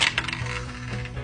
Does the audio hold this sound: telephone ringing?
no